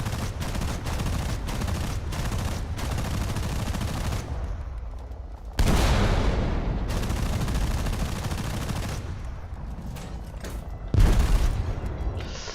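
Machine gun fire in the War Thunder video game: dense, continuous bursts of rapid shots with loud booming impacts breaking in, steady and close throughout with no talking.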